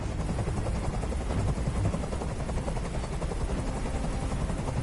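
A helicopter in the video game Detroit: Become Human hovers close by, its rotor a loud, continuous, rapid thudding drone that stays steady throughout with no voices.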